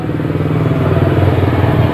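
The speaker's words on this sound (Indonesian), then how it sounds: "dengan cara diengkol motornya ya" Motorcycle engine running after a kick start, a loud, close, steady rhythmic idle putter with a faint metallic clatter.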